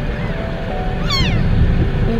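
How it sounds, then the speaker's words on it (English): A small kitten, found alone in a parking lot in the Philippines, lets out a single short, thin meow midway through, heard over a steady rushing background noise with no one talking. "So this one little kitten was by himself in the parking lot walking, crawling."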